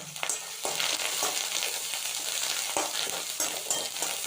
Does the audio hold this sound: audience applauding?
no